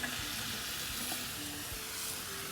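Potatoes and tomatoes sizzle faintly in a pan with ginger garlic paste, a soft, continuous frying hiss with no talk.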